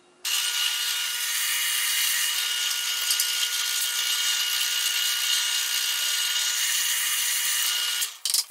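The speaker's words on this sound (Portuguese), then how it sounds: "e vou fazer dois furos" A power drill bores two screw holes through wood in a homemade sander project, its high whine running loud and steady for about eight seconds before stopping abruptly.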